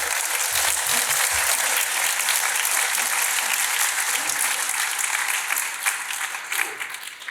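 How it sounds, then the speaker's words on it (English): Sustained applause from a large audience at the launch of the Centre for the Australian Way of Life, a dense steady wash of clapping that fades slightly toward the end. "A round of applause, please, for George."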